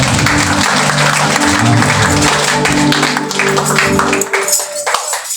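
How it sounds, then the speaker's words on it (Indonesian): A church congregation at a Sunday service breaks into loud, dense applause and cheering that fills the room, then thins out into scattered claps near the end. "Mari sorak-sorai."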